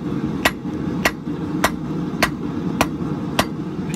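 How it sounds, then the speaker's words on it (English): A blacksmith's hammer forges a square taper on heated S7 steel stock, striking seven sharp, evenly spaced ringing blows over a low, steady forge roar. "forge out a simple square taper"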